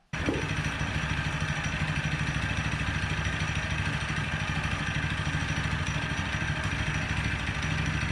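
A track sled engine runs with its clutch slipping, giving a loud, steady, close-up rumbling clatter that starts abruptly and holds without a break.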